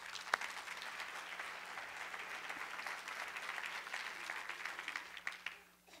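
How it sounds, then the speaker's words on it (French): A church audience marking a 40th anniversary breaks into steady, dense applause that holds evenly for several seconds, then thins and fades at the close. "Ça mérite une main d'applaudissement."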